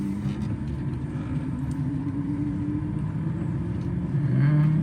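An electric-converted 1975 Volvo 164 pulling away in third gear, heard from inside as a steady low rumble with a faint motor whine that rises toward the end.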